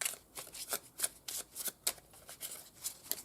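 Tarot cards are shuffled and drawn by hand in a quiet room, a faint run of soft, rapid riffling and flicking bursts repeating in an irregular rhythm, close but low in level.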